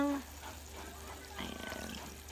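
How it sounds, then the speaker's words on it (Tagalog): Water pours into a rice cooker pot while Filipino sinigang na baboy (pork sour soup) is being prepared, a soft steady trickle and splash that grows slightly fuller midway, quiet and close. "Lalagyan na natin siya ng tubig na sakto lang sa dami ng"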